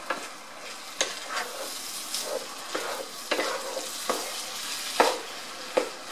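Tomatoes being stirred into Spanish rice with bacon and green peppers in a pan, a soft steady sizzle punctuated by regular scraping spoon strokes, close and without talking.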